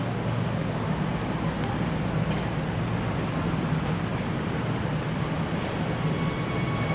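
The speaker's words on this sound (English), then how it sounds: "And that was an express train." Express train on Seoul Metro Line 9 rushing through Sinnonhyeon subway station, a loud steady low rumble and roar of wheels with no break or pause.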